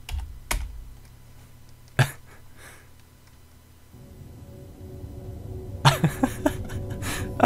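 Computer keyboard keys are tapped during a video game, with a few isolated clicks early on and then a quick burst of typing near the end over faint game sound.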